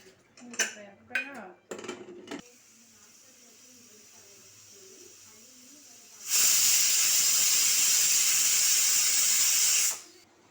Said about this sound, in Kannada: ಒಂದು ವಿಷಲ್ ಕೂಗಿಸಿ